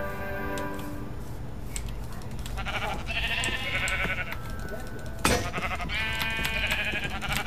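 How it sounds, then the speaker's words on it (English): Sheep bleat a few times in the Minecraft video game, short nasal calls that stand out over steady background music, with someone talking between them. "Oh, sheep."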